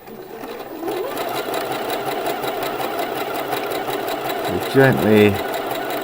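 A sewing machine runs steadily, stitching along a T-shirt hem, with a continuous whirring hum throughout and a brief pause and restart near the end; someone speaks softly over it.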